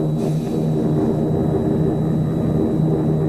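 Propeller airplanes drone steadily in wartime film stock footage, a continuous loud engine roar with no pauses throughout.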